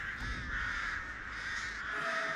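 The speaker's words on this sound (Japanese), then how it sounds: "まずは遠距離からカラスを当てる" Crows summoned by the Artist killer in Dead by Daylight caw in a dense, continuous flock, loud and close, with harsh overlapping calls and no speech.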